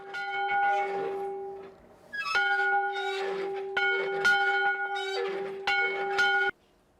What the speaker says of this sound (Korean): 종소리와 함께 예배가 시작됐다